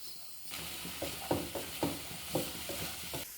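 Spices such as cumin and white and black pepper are stirred into a sizzling vegetable filling for spring rolls and samosas, with rhythmic scraping strokes about twice a second over a steady hiss.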